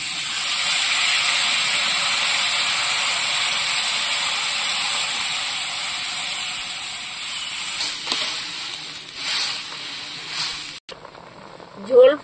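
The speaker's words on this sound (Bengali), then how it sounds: "কষানো হয়ে গেছে, এবার জল দেবো।" Water poured into a hot pan of fried spicy curry base with taro for a river magur fish curry, giving a loud, continuous steaming hiss that fades and breaks up near the end with a few clatters.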